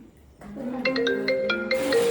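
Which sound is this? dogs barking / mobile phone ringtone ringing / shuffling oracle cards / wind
mobile phone ringtone ringing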